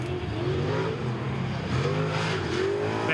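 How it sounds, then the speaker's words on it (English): A small block Ford engine in an off-road race truck wails steadily at high revs while running the front straight of a rough, cut-up dirt track at an off-road grand prix, loud and continuous throughout. "you can hear that small block Ford wailing away"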